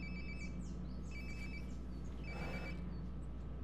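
A phone rings in Life is Strange: Before the Storm, a repeating electronic ringtone with bright tonal chirps and trills over a steady low background hum, with no talk during it.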